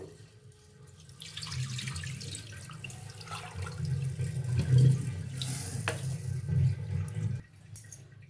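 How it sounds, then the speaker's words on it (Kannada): Green gram is being rinsed in tank water, giving a steady, soft sloshing and running-water sound close by that swells in the middle and then cuts off near the end. "ನಾನು ಟ್ಯಾಂಕ್ ನೀರಲ್ಲಿ ತೊಳ್ಕೊಂಡ್ಮೇಲೆ ನೋಡಿ ಕುಡಿಯೋ ನೀರನ್ನು ಹಾಕ್ಕೊಂಡು ಒಂದ್ಸಲ ತೊಳ್ಕೊಳ್ತೀನಿ"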